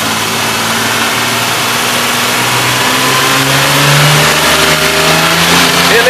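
Ford Ranger six-cylinder engine in a repair workshop, low on power with ignition trouble, revving up steadily from idle to a loud, rising roar close to the microphone with no voices over it.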